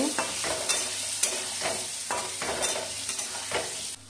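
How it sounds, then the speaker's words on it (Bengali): Potato pieces fry in hot oil with dried red chili, cumin and a pinch of asafoetida, giving a steady close sizzle broken by regular scraping stirs about every second, with no talk. "আলুগুলো দিয়ে দিচ্ছি। আলুগুলো একটু ভেজে নেব"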